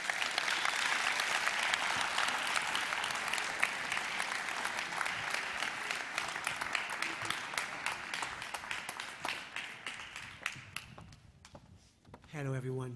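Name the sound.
audience applause for musical performers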